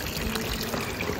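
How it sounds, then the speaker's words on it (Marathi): Cold drinking water runs steadily from a public fountain on a street in Luzern, Switzerland, making a close, continuous splashing stream with faint background voices. "पाणी आहे हे पिण्याचे पाणी आहे आणि जागोजागी तुम्हाला हे बघायला मिळेल"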